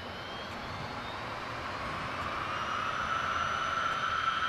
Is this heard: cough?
no